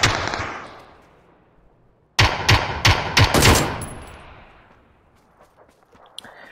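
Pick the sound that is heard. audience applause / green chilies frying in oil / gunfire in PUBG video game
gunfire in PUBG video game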